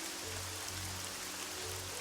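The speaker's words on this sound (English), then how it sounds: "Oh god, the rain is really loud." Loud, steady rain in the video game Evoland 2, a dense, unbroken hiss with a low hum underneath.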